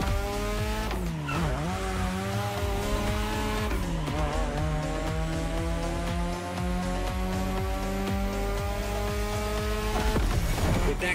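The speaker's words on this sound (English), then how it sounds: "These turns are sharp. You gotta drift through these" Car tires squeal and slide through sharp drift turns in The Crew Motorfest, with a steady engine drone and rising, falling pitch sweeps running loud and continuous, no talk over them.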